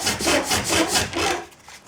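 Close, steady scratching of 180-grit sandpaper held against turning wood on a traditional pole lathe comes in repeated rhythmic strokes, each a broad rasping swell, before fading to quiet near the end.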